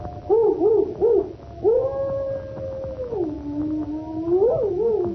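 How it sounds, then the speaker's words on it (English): A dog howls in long, wavering, mournful tones, rising and falling, with a few shorter yelping calls at the start, during a thunderstorm in a radio drama; fairly close and clear. "Listen to that dog. He's in an ugly temper."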